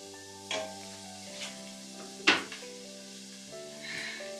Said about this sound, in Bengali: কুচিটা করে এটাকে কিছুক্ষণ আমি একটু ভেজে নিব, 20-30 সেকেন্ডের মতো।